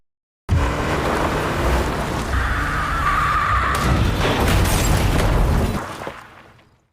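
In a film scene, a car runs a woman over: a loud, sustained engine roar with a harsh crash-like burst partway through, then the noise fades away.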